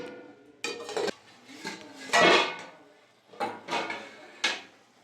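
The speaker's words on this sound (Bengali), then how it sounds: "10 মিনিট হয়ে গেছে, ঢাকাটা খুলে দেবো।" Metal lid lifted off a pot of simmering chuno fish curry with spring onion greens, giving a handful of close clanks and scrapes of metal on metal with short pauses between them.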